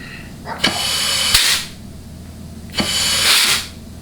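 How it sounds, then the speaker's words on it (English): Compressed air hisses out of the back of a nozzle pressed into the clutch circuits of a Dodge 68RFE transmission case during assembly, two loud sharp bursts each lasting under a second, close up. "you're hearing air blowing out of the back of the nozzle here because air is wanting to stay trapped in the circuit"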